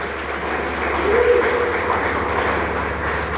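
A church congregation applauding together, a dense, steady wash of clapping that swells slightly midway and holds throughout, with a faint voice underneath.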